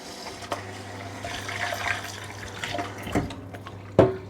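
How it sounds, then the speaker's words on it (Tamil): Broken short-grain white rice is being washed in water. Steady sloshing and swishing continue with scattered small splashes and a sharper splash near the end, and nobody speaks. "இதை முதல்ல ஒரு 3 தண்ணியில் கழுவுவோம்"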